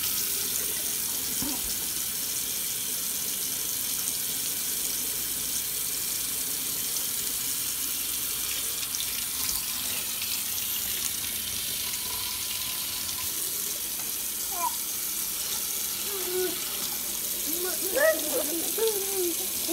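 Water runs steadily from a faucet into a sink, a constant hiss throughout with faint splashing and a few brief voices near the end.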